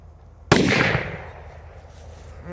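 A professional firecracker goes off in one sharp, loud bang that fades into a short ringing tail, with no voices around it.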